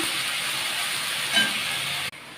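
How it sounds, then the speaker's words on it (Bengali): Spices sizzling in hot oil in a pan during home cooking, a steady close hiss throughout with a brief swell near the end. "এই যে তেলের মধ্যে মশলা দিয়ে দিচ্ছি"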